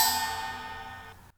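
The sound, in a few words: spring stroked with a piece of metal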